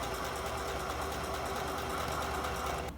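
A sewing machine stitching a straight line along a rubber band guide, running as a steady, continuous motor whir with a fine rapid rattle, moderately quiet and close, with no voices.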